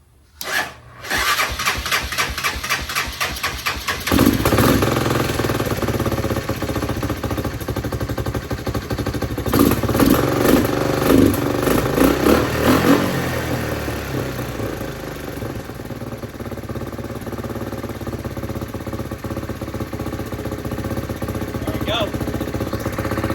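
Honda 300 ATV engine cranking over with a quick rhythmic starter sound, firing up and running steadily at a loud idle with a few throttle blips, while a person talks at times.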